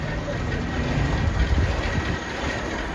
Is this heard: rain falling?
no